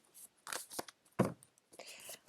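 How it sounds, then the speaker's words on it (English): Short, papery riffling bursts of cards being shuffled nearby, in quick irregular flurries separated by brief pauses. "I'm gonna shuffle one more time."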